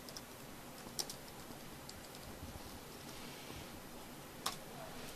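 Faint keystrokes on a computer keyboard, with a couple of sharper key clicks standing out from a soft, hissy background.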